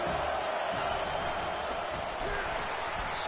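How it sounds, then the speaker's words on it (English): A steady, dense roar of a stadium crowd in the College Football 25 video game during a game against Penn State, loud and continuous with a commentator talking over it. "This crowd going to try to make life miserable for these guys."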